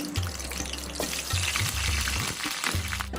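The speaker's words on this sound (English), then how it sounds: "we will fry the whole potatoes" Steady, close sizzling of whole potatoes frying in hot oil, with occasional stirring and clinking against the pan.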